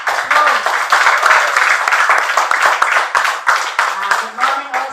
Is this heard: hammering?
no